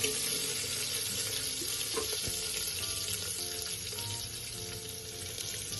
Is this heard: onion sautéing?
yes